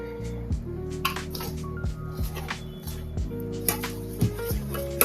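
Wet squishing and slapping as thick bajji batter is stirred by hand in repeated strokes, with a steady tonal hum in the background.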